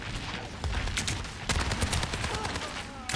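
Soldier: 76's rifle in Overwatch 2 fires in bursts of rapid shots aimed at an enemy shield, loud and close, with other game noise mixed in.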